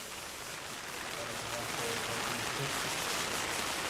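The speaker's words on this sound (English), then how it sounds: "rain intensifying even more. You can possibly hear it on the shelter that we stood under" Heavy rain drums steadily on a shelter at an outdoor RC car track, a dense, loud hiss that builds slightly and never lets up across the whole stretch.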